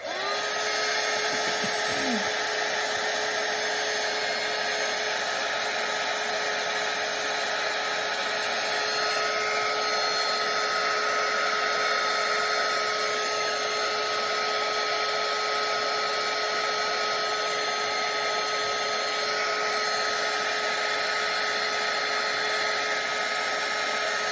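Hair dryer blowing on wet watercolour paint on paper, a loud constant whooshing hum with a steady motor whine, close and unbroken throughout.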